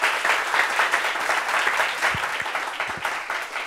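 A French TV studio audience applauds a guest named Martine, a student, with steady, full applause throughout and a few low thumps near the end.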